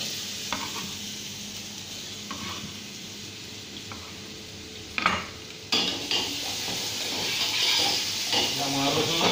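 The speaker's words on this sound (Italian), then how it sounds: "Diamo una rosolatina veloce." Diced potato and onions browning in a pan, a steady low sizzle broken by a few scraping stirs and clinks of a utensil against the pan, close and moderately loud.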